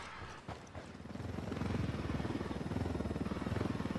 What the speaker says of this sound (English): I got a chopper over here